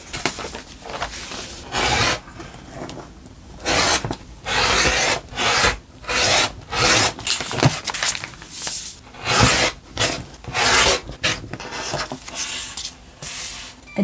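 Trimming a fabric block piece for a Legit Kits Sewphia quilt block with repeated rasping, rubbing cuts, about a dozen distinct strokes in a steady rhythm, close and fairly loud with no talking.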